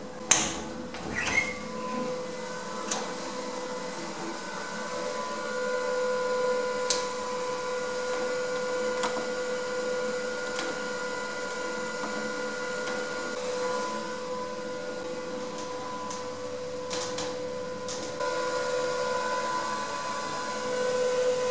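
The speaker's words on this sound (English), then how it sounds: "So then, let's now make this lift move." Old lift machinery, dating from around the 1920s, runs in the motor room of the Royal Victoria Hotel in St Leonards with a steady droning hum, faint whine and occasional clicks and clunks.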